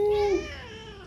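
A pet cat gives a single short meow, close and fairly loud, which fades into quieter background noise.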